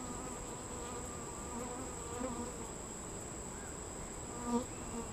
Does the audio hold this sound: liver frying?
no